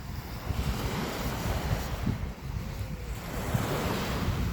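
Ocean waves washing onto a shore in quick succession, a steady close roar of surf with gusty wind buffeting the microphone and no voices.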